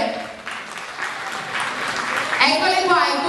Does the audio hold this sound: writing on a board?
no